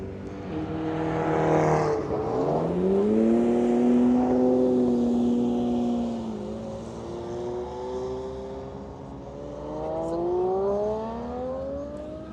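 A Lamborghini Murcielago drives past at the Ferrarissimo car event, its engine rising in pitch on acceleration, then easing off and climbing again as it passes nearby, loud and alone.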